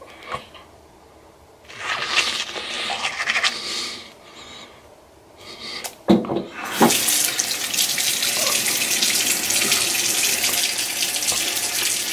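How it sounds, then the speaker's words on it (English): Tap water runs into a bathroom sink during teeth washing and mouth rinsing, with brief splashes at first, then a steady, loud, close stream pouring for several seconds. "Now, I'm going to wash my mouth and teeth."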